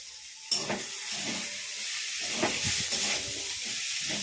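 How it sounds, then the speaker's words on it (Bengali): Chopped tomato, boiled chickpeas and green chilli frying in a hot pan, a loud sizzle that flares as the food goes in and then holds as a steady hiss, with occasional stirring scrapes, close and alone. "হালকাভাবে একটু নেড়ে ছেড়ে ফ্রাই করে নিতে হবে।"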